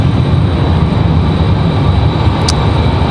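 A Frontier Airlines jet arriving from Atlanta at Raleigh-Durham airport produces a loud, steady broadband engine roar that stays constant and close for the whole stretch, with no talking.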